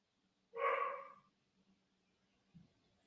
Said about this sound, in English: Don't know if you can hear my dog in the background.